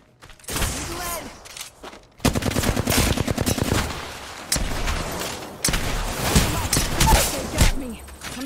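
Gunfire in the video game Apex Legends, with rapid automatic bursts and repeated shots close and loud, mixed with brief voice chatter.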